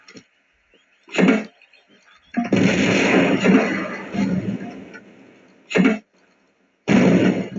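Explosions in the video game Tomb Raider 2: several loud, sharp blasts, with one longer rumbling burst that fades over a few seconds before two more short booms.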